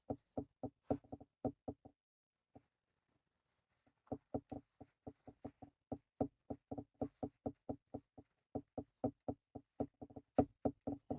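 Rapid knocking of a mold filled with shower steamer mixture, crisp hollow taps in fast bursts with a short pause, then a long steady run of close, sharp knocks.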